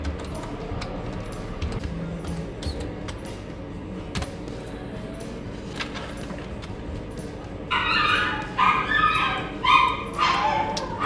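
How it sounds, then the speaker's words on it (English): Dogs barking outside at a distance, faint intermittent yips behind indoor room noise, followed near the end by louder close rustling or handling sounds. "Dogs out there."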